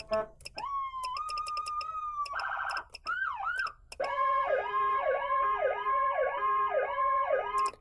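Loud emergency vehicle siren cycling through patterns, ending in a repeating two-tone hi-lo alternation, with short gaps and bursts between modes.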